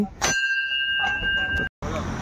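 A bright temple bell at Maa Ghanteswari temple in Chipilima rings out with a clear sustained tone, fading over a moment, followed by a brief silence and then ambient outdoor noise.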